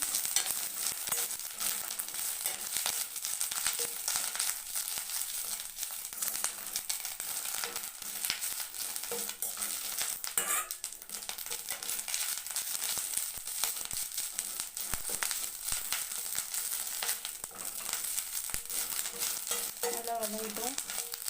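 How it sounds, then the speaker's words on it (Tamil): Drumstick leaves sautéing in a pan, a steady low sizzle with soft stirring scrapes running throughout at moderate level, no talking. "இந்த முருங்கைக்கீரை நல்லா வதங்கணும், அந்த அளவுக்கு நல்லா வதக்கி எடுத்துக்கணும்."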